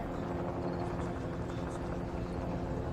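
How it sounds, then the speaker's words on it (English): Helicopter in a documentary on the 1990 Kanehsatake standoff, heard as a steady, continuous low rotor drone that stays at an even level for the whole stretch, with a faint murmur of voices underneath. "there's just a helicopter"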